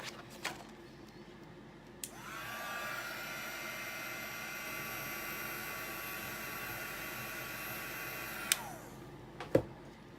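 An electric dryer blows on fresh paint on a wreath sign, switching on with a steady whooshing hum that runs for about six seconds before cutting off, with a few soft clicks and taps around it.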